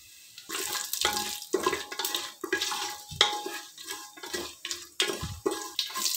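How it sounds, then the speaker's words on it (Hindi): Whole spices frying in a spoonful of hot oil inside a pressure cooker, heard as a close, steady crackling sizzle broken by repeated scraping stir strokes and metal clinks, with no voices. "तेल हो गया गरम, साबुत मसाले पा देने हैं।"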